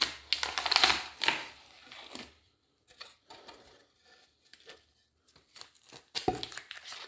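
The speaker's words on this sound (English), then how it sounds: "start gently prying, and the tape should start to come off." Tape is pried and peeled off a beveled template, giving a few crackly, tearing bursts up close. Quieter rustles and gaps follow, then a final peel.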